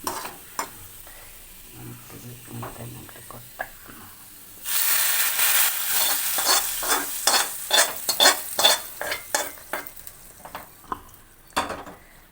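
Small onions sizzle loudly in a hot pan as a spoon scrapes and stirs them in a steady rhythm, close up, after a quieter opening stretch.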